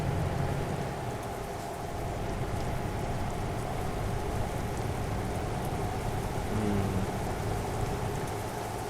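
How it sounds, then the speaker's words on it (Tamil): Steady, dense rain pours down in the Euro Truck Simulator 2 game, a constant hiss with a low rumbling undertone lasting the full stretch and no voices. "மழை பெய்யுது."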